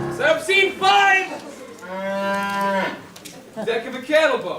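Cattle low in long, loud moos on the deck of a cattle boat, three separate calls close by with brief pauses between them and no talk over them.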